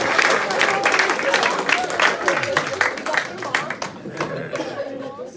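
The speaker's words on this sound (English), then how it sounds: "give this amazing man a big applause" A live hypnosis show audience gives the performers a big round of applause, a lively burst of clapping mixed with crowd chatter and laughter that thins out toward the end.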